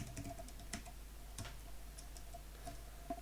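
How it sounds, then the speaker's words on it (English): Keys tapped on a computer keyboard while entering a formula in a spreadsheet, a quiet, close run of light irregular clicks over a low steady hum, with no talk. "let's manually type trade"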